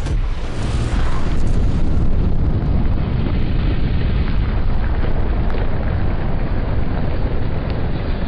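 A Gyrojet rocket gun fires and blows up, then a loud, sustained roaring blast of noise holds steady for several seconds, harsh and close, with no speech.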